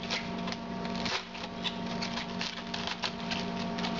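A knife slicing the core out of a head of cabbage in a home kitchen, giving a steady crisp crunching and patter of cuts over about four seconds, close and fairly loud, with no talking.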